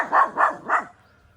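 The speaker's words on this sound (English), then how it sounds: "this is the mother, that was barking now" Mother dog of a litter of puppies barking three times in a quick, even rhythm, close and loud, then falling quiet.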